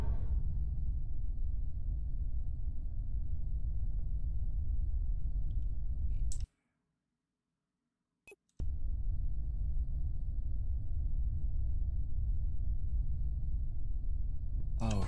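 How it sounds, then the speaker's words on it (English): Deep, steady warp drive rumble of a spaceship in SpaceBourne II, a loud continuous low roar that cuts out abruptly into near silence for about two seconds before a sharp click and the rumble resumes. "Warp drive online."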